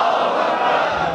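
A large crowd at a religious celebration in a mosque imambargah roars a loud, dense unison slogan response, a sustained wall of massed voices with no gaps.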